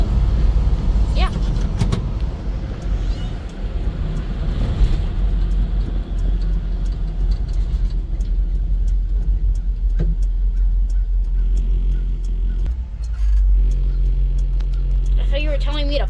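A 1975 Ford F-100 pickup on a test drive after getting new shocks, its engine rumbling and road noise droning steadily throughout, heard from inside the cab while people talk over it.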